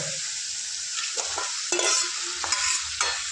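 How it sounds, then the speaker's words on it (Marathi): Mutton is stirred into an oily gravy that sizzles steadily in the pan, with a few scraping strokes of the spoon over the constant frying hiss. "आता मटन हलवून घेऊया"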